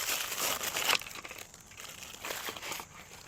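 Plastic packaging of a vintage Star Wars action figure, held shut with a strip of tape, crinkles and crumples up close in a steady rustling stretch, loudest at first and then easing off, with no talking.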